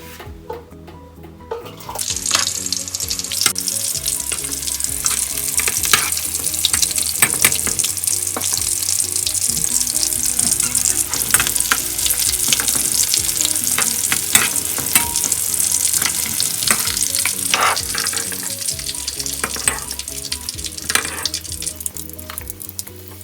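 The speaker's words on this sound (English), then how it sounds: "repeat the process, fry your second batch of lobsters" Loud, continuous sizzling of lobster frying in hot oil, with crackles and pops throughout and occasional clinks of stirring, no speech.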